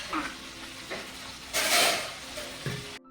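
Cauliflower fries in oil on an indoor stove, a steady sizzle swelling into a louder hissing burst midway, with faint stirring and clatter before cutting off.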